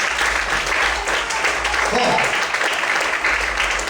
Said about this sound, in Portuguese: Será que você pode aplaudir o Senhor com alegria?